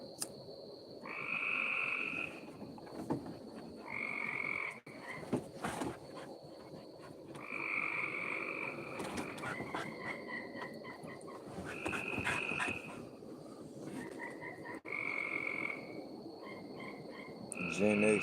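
Frogs croak outside a house in repeated bursts of rapid, rattling calls, some near and some farther off, with insects buzzing faintly in the background and no talking.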